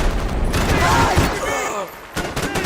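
A loud, close fusillade of gunshots crackles through a firefight in the action game Max Payne 3, with shouting voices mixed in.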